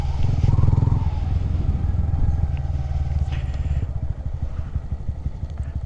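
A Honda Grom motorcycle rides along in third gear with a loud, buzzing single-cylinder engine note that rises at first and then settles into a steady, pulsing drone.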